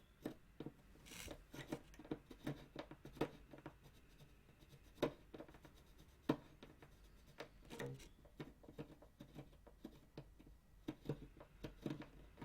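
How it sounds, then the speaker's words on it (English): Pencil graphite being rubbed onto a wooden string instrument peg, quiet scratchy strokes in an irregular rhythm of short bursts and scrapes, close up and faint, with no talking. "Adding some graphite to the peg."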